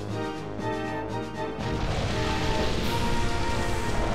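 Rain sets in during a battle in the video game Pokémon Colosseum, with a dense, even hiss rising over game music after a moment and then holding steady, with no talk.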